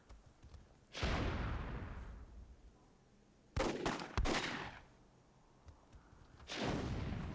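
Gunfire from a WWII-themed online match of the video game Myth II Soulblighter, heard as three separate loud, booming bursts that each fade out with a long decay, with quieter gaps between them.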